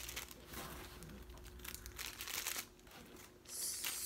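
Plastic Ziploc bags and granola bar wrappers rustle and crinkle as they are handled, a soft, uneven crackling that is fairly quiet and close, with a brighter burst of crinkling near the end.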